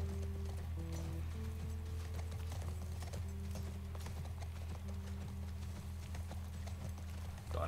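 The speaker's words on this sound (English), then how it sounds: "I'm on a horsey now." Steady clip-clop of horse hooves galloping at an even pace, set over a low humming drone with a faint tonal melody in the background, in the video game The Last of Us Part 1.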